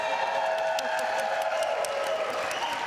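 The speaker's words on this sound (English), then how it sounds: "You can applaud for yourself." A television studio audience at an evening talk show applauds and cheers, producing a continuous, loud wash of clapping with crowd noise that holds steady for the whole stretch.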